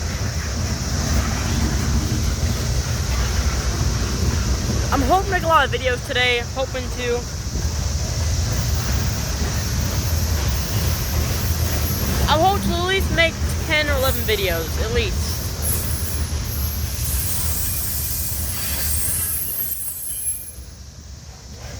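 A slow-moving train rolls past at a Wartrace, Tennessee rail meet, its steady low rumble and hiss running throughout, while someone talks over it in two stretches before the noise briefly drops near the end.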